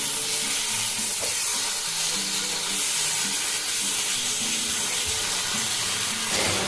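A steady, loud sizzle fills the frying pan as chilli powder and salt are stirred through, with a constant hiss and occasional scraping of the spatula underneath, no voices.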